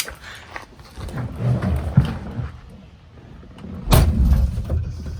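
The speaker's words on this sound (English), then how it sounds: "You hear that door close over there?" A car door slams shut somewhere nearby, heard from inside a 1971 Bahama Blue Ford Bronco, as a couple of dull thumps over the low rumble of the vehicle.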